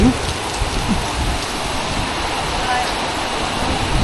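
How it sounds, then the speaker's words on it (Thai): Steady heavy rain hisses across the whole stretch during the rainy season at Khao Kho, Thailand, a dense, even wash of falling water with a faint voice murmuring underneath. "ฝนตกช่ำๆ"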